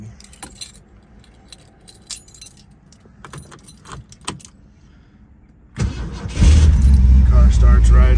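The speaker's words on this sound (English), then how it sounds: "Car starts right up." A 1969 Ford Mustang Mach 1 with a 428 Cobra Jet V8, carbureted with an electric choke: keys jangle and a voice talks, then the starter cranks and the engine catches into a loud, rumbling idle close by.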